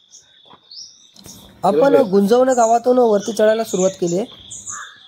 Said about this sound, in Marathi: आजूबाजूला तुम्ही पाहताय पक्ष्यांचा चिलबिलाट